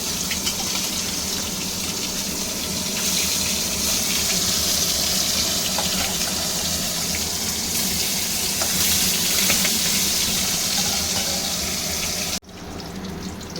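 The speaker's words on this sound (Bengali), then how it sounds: "মাছগুলো ভাজা হয়ে গেছে, খুবই হালকা করে মাছগুলো ভেজেছি।" Singhi catfish frying lightly in hot oil in a pan for a curry, a steady broadband sizzle that stays loud and even for most of the stretch before cutting off abruptly near the end.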